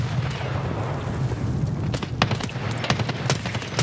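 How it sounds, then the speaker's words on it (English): A grenade goes off in Escape From Tarkov with a low rumbling boom, followed by a scatter of sharp gunshots and cracks over constant background noise. No one speaks. "Grenade."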